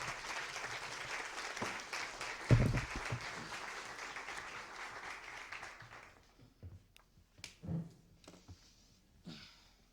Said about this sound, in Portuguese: E vamos receber com aplausos o professor Vladimir Safatli